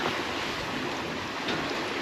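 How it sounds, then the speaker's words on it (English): Lumpy sea waves around a sailboat in the Coral Sea, a dense continuous rush of water and wind noise, loud and close, with a slight surge midway and no voices. "The sea is very lumpy"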